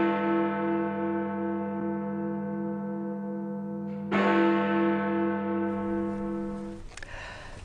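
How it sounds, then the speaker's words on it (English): Big Ben, the great clock bell in the Elizabeth Tower in London, strikes twice. Each deep, rich stroke is followed by a long humming resonance that slowly decays. "However, Big Ben would continue to chime for special occasions."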